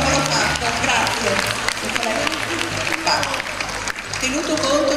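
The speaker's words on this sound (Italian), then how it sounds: "un applauso prima per loro per tutto cosa hanno fatto." An audience at a high school contest ceremony in Italy applauds, thick continuous clapping that fills the hall, with crowd noise and voices mixed beneath it.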